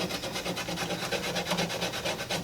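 An old-school elementary school eraser rubs leftover foam seal residue off a Camaro third brake light, producing a continuous fast back-and-forth scrubbing close up, fairly quiet and steady, with no voices.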